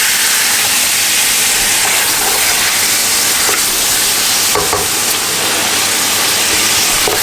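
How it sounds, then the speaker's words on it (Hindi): Food sizzles as it is fried and stirred in a home kitchen pan, a loud, continuous close hiss with a few faint utensil knocks around the middle. "इसको हम अच्छी तरह भूनेंगे कोई 10 मिनट।"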